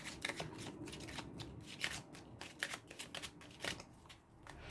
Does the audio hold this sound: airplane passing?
no